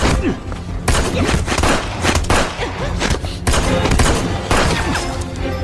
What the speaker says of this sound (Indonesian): Aksi pertarungan pistol dari jarak dekat pun tak bisa dihindarkan